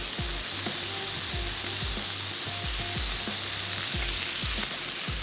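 Gravy sizzles loudly as it fries in Dew Drop pomace oil for a barbeque handi, with a steady hiss broken by regular scraping stir strokes close by and no talk.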